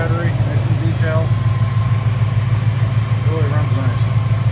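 A 1970 Dodge Dart's 318 two-barrel V8 idles steadily and evenly, close and loud, with a low throbbing pulse throughout. Faint higher sounds drift over it.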